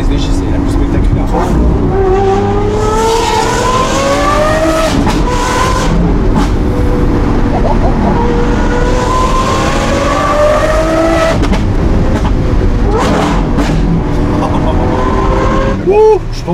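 A Lamborghini Aventador SVJ with a Gintani setup roars close by, its engine sweeping up through repeated rising revs with gear changes and a sharp crack near the end, while people talk over it.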